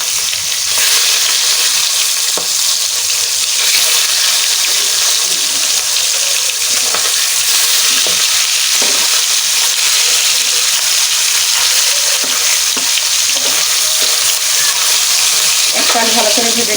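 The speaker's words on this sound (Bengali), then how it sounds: "একটা ভালো করে ভেজে নেওয়া হয়ে গিয়েছে, এখন অপর পিঠটা ভালো করে ভেজে নেব" Pangasius fish fries in a pan with a steady, loud broadband sizzle throughout, broken by occasional soft knocks and scrapes as pieces are turned.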